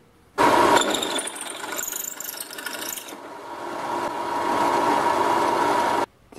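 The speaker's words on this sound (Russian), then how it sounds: "Все, и сверлим 12-м сверлом." A 12 mm bit drills through an offcut of water pipe. The drill motor whines loudly and steadily for about six seconds, starting abruptly, shifting in tone midway with a grinding, ratcheting edge, then cutting off.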